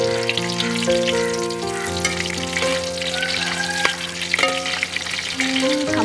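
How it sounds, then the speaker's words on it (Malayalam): Washed chicken pieces, still wet, fry in hot oil in a pan, giving a steady loud sizzle with sharp pops and spatters throughout, stirred now and then. "അമ്മ ഇത് കഴുകിയതിന്റെ വെള്ളം മൊത്തം പോയിട്ടില്ല, അതായത് പൊട്ടിത്തെറിക്കണത്."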